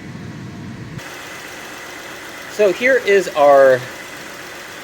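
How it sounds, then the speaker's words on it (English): A 1991–1995 Acura Legend engine idling under the hood while its coolant system is bled, a steady mid-pitched hum with someone speaking over it. "We've also now have the engine running"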